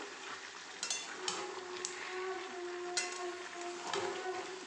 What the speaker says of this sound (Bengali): ভালো করে মশলাটা দিয়ে ভালো করে কষাতে থাকবো।